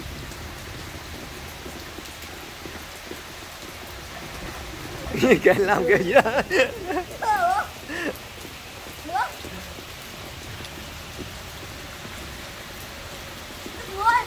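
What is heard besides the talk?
rain getting heavier at a resort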